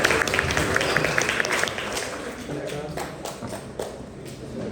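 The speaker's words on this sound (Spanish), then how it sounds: "Aplausos a su compañero." Scattered classroom applause for a student at a physiology lab session, a thin patter of claps that fades over a few seconds amid room noise and murmuring voices.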